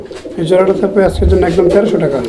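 Low cooing of Raj Golla pigeons close by, partly masked by a person talking over it.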